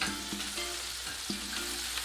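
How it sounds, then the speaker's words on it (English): Shrimp frying in a pan for borracho shrimp tacos, a faint continuous sizzle broken by several sharp clacks as the pieces are flipped, with no speech. "next we're flipping the shrimp"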